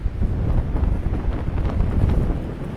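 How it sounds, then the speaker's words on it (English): Strong wind on Findhorn Beach buffeting the microphone, a continuous low roaring gust noise with uneven surges throughout. "Whoa, it's blowing quite a wind down here. You can probably hear it."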